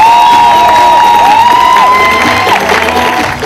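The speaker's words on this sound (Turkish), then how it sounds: "Yılmaz Erdoğan'ı herkes ayakta alkışlıyor" An audience on its feet cheering and applauding Yılmaz Erdoğan on stage, a loud crowd roar with whoops and shouts over clapping that fades slightly toward the end.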